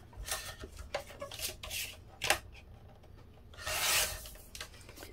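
Paper is trimmed for a file folder journal in a series of close, short rasping strokes of varying length, with a longer sweep near the end and no talking.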